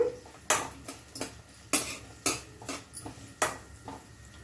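Chopped onions stirred in a metal pan with a spatula while cooking for a brinjal fry, giving repeated sharp clanks and scrapes in an irregular rhythm, close and moderately loud, with no voices.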